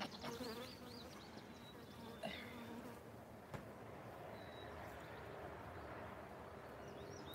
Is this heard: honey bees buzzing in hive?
yes